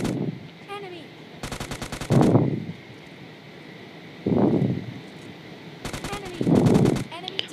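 Bursts of UMP submachine-gun fire in the battle royale game PUBG Lite, several rapid volleys fired close and loud, separated by short pauses, with game ambience and faint footsteps in between.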